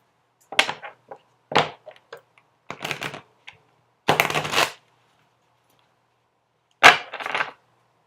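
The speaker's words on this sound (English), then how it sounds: "I am just going to continue shuffling until I am told to stop" Tarot cards riffle and flap in short bursts, five or six separate shuffles with quiet gaps between, close and crisp, no voices.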